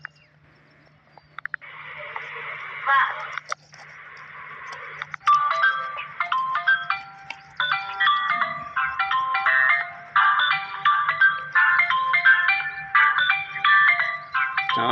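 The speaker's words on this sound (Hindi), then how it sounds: "मेरा फोन बाजता है।" A mobile phone ringtone plays a repeating electronic melody at a fish-cutting spot, loud and close, looping steadily for most of the stretch after a brief buzzing start.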